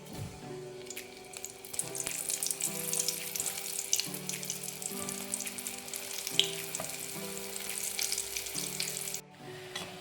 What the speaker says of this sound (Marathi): आता हे कोफ्ते आपण तळून घ्यायचे आहे.